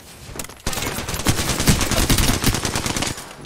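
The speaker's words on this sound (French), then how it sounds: "Moi, je me fais tirer dessus aussi." Rapid automatic gunfire in a shooter video game erupts after a brief quiet start and keeps up as a dense, loud stream of shots for several seconds.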